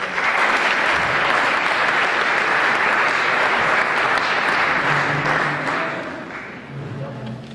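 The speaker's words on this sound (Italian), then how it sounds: "gli applausi per tutti voi sono stati così" A full audience applauds loudly after a photography talk, dense sustained clapping that fades toward the end as a few voices start to speak beneath it.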